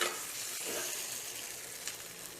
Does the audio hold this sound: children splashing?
no